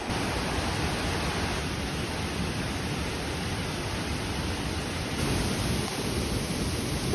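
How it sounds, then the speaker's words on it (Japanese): Piala waterfall in Sulawesi, Indonesia pours in a steady, broad rushing roar, loud and constant from start to finish with no voices heard. "ここはピアラの滝っていうまた別の滝なんだって"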